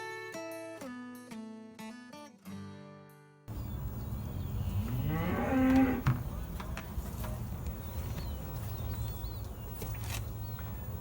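Cattle on a ranch, where the animals are being ultrasounded, let out a long, loud low moo partway through after a short stretch of music, with flies buzzing in steady outdoor ambience.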